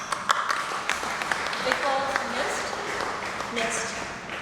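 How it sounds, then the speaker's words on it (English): A university campus audience applauds after pledging to make their campuses net zero, with dense, steady clapping filling the room and some brighter individual claps standing out, while faint voices mix in beneath. "please give yourself a round of applause"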